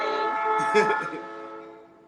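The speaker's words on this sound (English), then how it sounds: "Here come my nightly train." A nightly train passes with its horn sounding, a loud sustained blast that fades toward the end while people talk over it.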